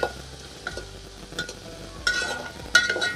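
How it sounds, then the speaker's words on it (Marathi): Onion and tomato masala for garlicky fenugreek greens fries in oil, with soft sizzling and several louder bursts of spatula stirring and scraping at irregular intervals. "आता आपल्याला हे व्यवस्थित भाजून घ्यायचं आहे।"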